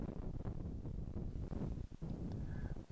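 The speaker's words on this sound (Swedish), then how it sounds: "Och det är höger-vänster-vind och Lindvall går med drive." Gusty wind buffets the microphone on a golf course tee during a Swedish professional tour event, a continuous loud low rumble with brief dips, no voices.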